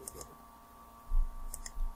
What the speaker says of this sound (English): Mouse click.